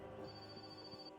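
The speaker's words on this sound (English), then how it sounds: "Phone ringing." A telephone rings in My Summer Car, a faint sustained electronic bell tone lasting about a second over a quiet background.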